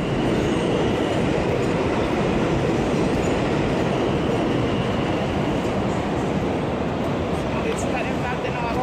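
A train rumbles past loud and close in the Bronx, a dense, steady roar of wheels and rail noise that never lets up.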